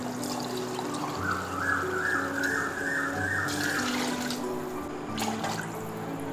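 Water is poured into a cooking pot while making prawn biryani, a steady soft trickling and splashing that runs for several seconds at close range, fairly faint.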